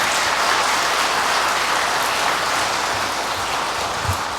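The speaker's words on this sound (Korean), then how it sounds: "고정희 마리아 교수님께 다시 한번 큰 박수 부탁드리겠습니다." Loud, dense clapping from an audience thanking a lecturer after an Advent talk on Caravaggio, a continuous wash of hands that holds steady throughout and fades only slightly near the end.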